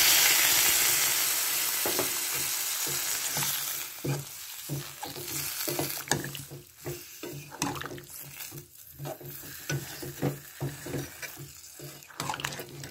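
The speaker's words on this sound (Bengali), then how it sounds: "কিছুক্ষণ আমি নাড়িয়ে চাড়িয়ে এবার আমি এতে দিয়ে দিচ্ছি জল" Food is stirred in a sizzling pan with a spoon scraping and knocking against the metal, then water is poured in and the hiss gives way to choppy, uneven stirring sounds.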